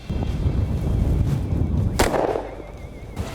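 A single sharp shotgun blast fired at a crossing duck in California's Central Valley marsh, one loud crack followed by a brief echoing tail over low outdoor rumble.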